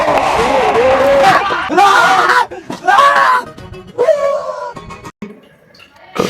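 A woman screams in fright during a ghost prank, with loud, wavering shrieks and wails that come in repeated bursts, broken by short pauses and mixed with other voices.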